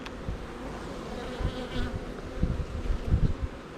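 Honeybees hum steadily at an open hive while a beekeeper works frames in a cracked honey-super body; the close, dense buzz swells louder toward the end with no talking.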